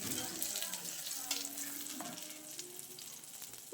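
Maize-and-radish paratha sizzling in ghee on a hot pan, a steady close crackle and hiss with faint scraping stirs and a soft voice in the background.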